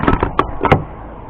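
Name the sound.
van door being tried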